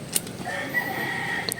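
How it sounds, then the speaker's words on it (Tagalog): Chickens and a rooster on a farm, the rooster crowing faintly in the distance among soft clucks and a low steady background hum. "Mga manok lagi."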